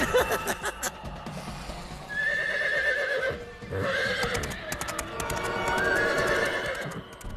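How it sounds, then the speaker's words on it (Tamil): A horse neighs loudly several times and gallops with clip-clopping hooves, set against dramatic background music in a cartoon bedtime story. "ஏ துஷ்டனே, ஏன் குதிரை ஓடுகிறது?"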